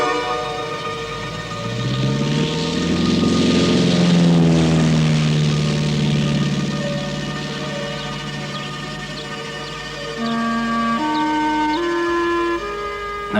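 A propeller plane flies low over the bush while searching for poachers. Its loud droning engine rises and falls in pitch as it passes overhead and then holds a steady hum, with no speech.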